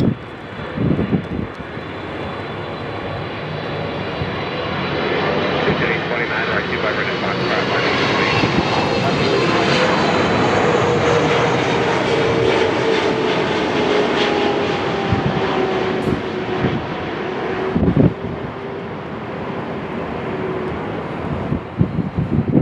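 A jet airliner roars past on the runways 24R and 24L at Los Angeles International Airport, a loud sustained engine rush that swells and slowly falls in pitch, with wind buffeting the microphone and brief radio-like voices.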